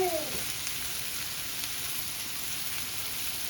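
Sausage sizzles in a pan with a steady, crackling hiss that stays even throughout, after a brief clink at the start; no one talks.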